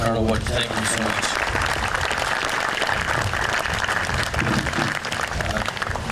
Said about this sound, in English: Another round of applause for Colonel Wood.